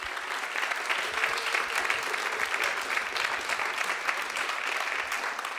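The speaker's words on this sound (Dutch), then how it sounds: "Een hartelijk applaus voor mevrouw Beryl Biekman." Sustained applause from a hall audience honouring Beryl Biekman, dense and even throughout, heard at moderate distance with no voices on top.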